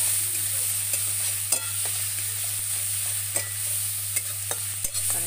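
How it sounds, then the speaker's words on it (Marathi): Onion and spice masala with coconut, coriander, garlic and ginger roasting in a pan, a continuous sizzle with repeated spatula scrapes and stirring clicks, close and alone with a low steady hum. "कांदा भाजते बघा, मसाला भाजते. चांगला मसाला भाजते बघा."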